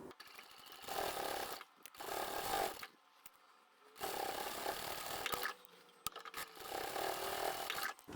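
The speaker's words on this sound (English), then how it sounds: "we're going to go and take this to the machine now and sew straight across here" A sewing machine stitches straight across multiple layers of a lined crossbody satchel bag, running in four bursts of steady buzzing with short pauses between, close and clear.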